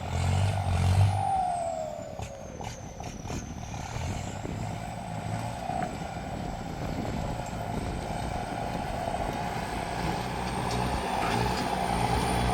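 A truck works at a site, its engine droning loud and steady with a rising whine and a few sharp clanks early on, then a continuous rumble.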